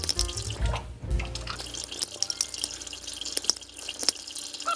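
Water poured into kuli kuli peanut dough in a kitchen, with low handling thumps at first, then trickling and scattered close drips.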